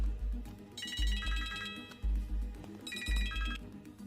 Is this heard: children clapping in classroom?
no